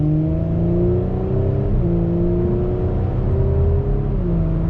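A 2021 Audi S4 (B9.5) engine idles and revs in a steady, deep, throaty drone with slight pitch swells, loud and close, no voices.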